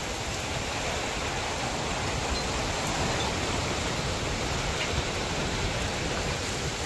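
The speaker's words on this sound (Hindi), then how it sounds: "कैसी आवाज़ आ रही बारिश की" Heavy rain and strong wind in a storm near Jim Corbett make a dense, steady hiss and roar that stays loud and unbroken throughout, with no talk.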